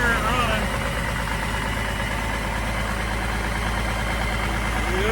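The engine of a 1987 Freightliner wrecker truck, left sitting for about a year and a half and with a sticky accelerator, idles in a steady low rumble at close range throughout.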